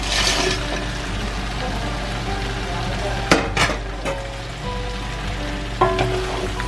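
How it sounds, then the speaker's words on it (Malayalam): Chicken for chilli chicken is stirred and fried in a pan over low flame, a steady sizzle broken by a few scraping clatters of the spoon against the pan. "ലോ ഫ്ലെയിമിലിട്ടിട്ട് നന്നായിട്ടൊന്ന് മിക്സ് ചെയ്തെടുക്കണം."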